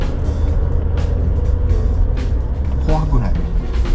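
Suzuki Jimny JB64W climbs a steep mountain pass in second gear, its engine a steady loud drone heard from inside the cabin while someone talks over it.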